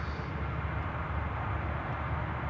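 Airliner applying reverse thrust on landing during the arrivals of a large four-engine A340, 747 and A380 group: a steady, loud, broadband jet roar that holds evenly throughout, with no talk.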